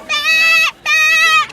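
A flock of sheep arriving at a pen during a show, giving two loud, close bleats, each drawn out for about half a second with a short gap between them.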